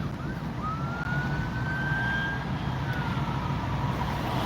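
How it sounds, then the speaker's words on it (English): An ambulance siren passing along the road, its wailing tone rising and falling steadily over a loud, constant traffic rumble, with no talking. "I hear ambulance. You'll hear it."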